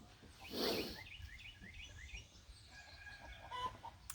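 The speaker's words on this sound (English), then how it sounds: "Sorry if you hear our chickens. There's a lot of drama going on. We got 2 roosters, and they're vying for the attentions of the ladies." Backyard chickens and two roosters cluck and call at a farm, a burst of squawking followed by a run of short rhythmic clucks and a few faint chirps, fairly distant and quiet.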